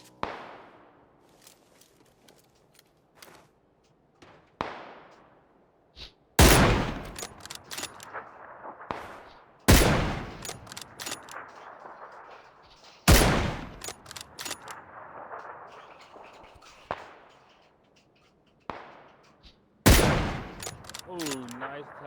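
Video game gunfire from a micro weapon: several loud, sharp shots ring out at irregular intervals, each trailing a long echoing decay, with fainter distant pops and scattered impacts in between.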